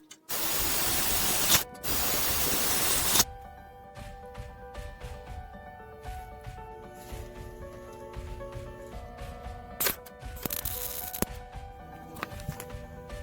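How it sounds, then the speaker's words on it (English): Welding on the body of a 2013 Toyota 4Runner: two loud bursts of harsh crackling hiss, each lasting over a second, then quieter stretches with a steady background tone and a few brief sizzling spurts. "Just been clamping everything as I go and laying down some welds"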